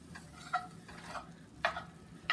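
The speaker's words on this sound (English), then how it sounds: "So now I'm going to break the meat." Pork sausage broken up with a utensil in a cast iron skillet: several sharp scraping taps at uneven intervals over a quiet, continuous frying sizzle, without talk.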